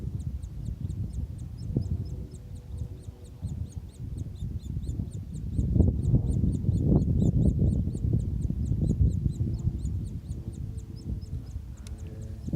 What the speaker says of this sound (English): woodpecker babies or something